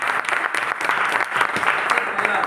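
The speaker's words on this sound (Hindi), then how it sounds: "ताली हो जाए" Audience applause at a business seminar, a steady dense wash of many hands clapping together, loud and continuous throughout.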